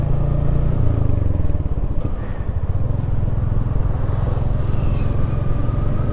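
A BMW motorcycle rides along a road toward the Damodar river near Maithon, its engine a loud, continuous close rumble with steady wind and road noise throughout.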